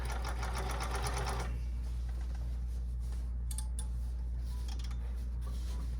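A sewing machine stitches silk lining in a quick, even whir for about a second and a half, then stops, leaving faint room hum with a few light clicks.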